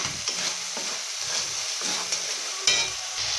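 Chopped green chilies frying in hot oil and spices, a steady close sizzle with scraping stirs throughout, a sharper burst near the end, no voices.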